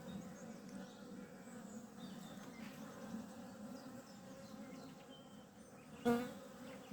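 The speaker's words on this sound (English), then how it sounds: "Now if you watch the bees, you see some going in and some coming out at the same time." Honey bees buzz steadily at a hive entrance in an Irish apiary in April, a continuous close drone with brief louder passes as individual bees fly near.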